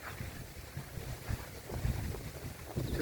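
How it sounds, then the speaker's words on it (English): Strong wind gusts buffet the microphone outdoors, a rough, uneven roar with bursts of low rumble and no talking. "It's just too windy."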